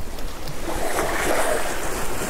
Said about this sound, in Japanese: ダメだ、風が強くて。